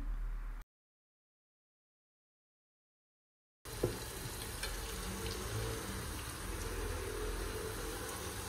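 Steady sizzling of spices frying in hot oil, close and continuous, with a few faint stirring clicks; the clip opens with a stretch of silence.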